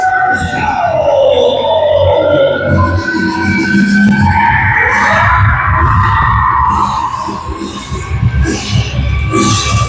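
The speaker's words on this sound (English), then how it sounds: "What you're hearing is the Rangers goal song" A hockey goal song blares through an arena after a goal, over a loud, roaring crowd, continuous and dense from start to finish.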